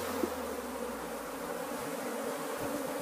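Honey bees swarm around an open hive during a colony split, a dense steady buzzing drone that fills the whole stretch, fairly close and continuous.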